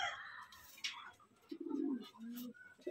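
Pigeons in a loft give soft, low cooing calls, two or three short bursts close by, with faint chirps and rustles between them.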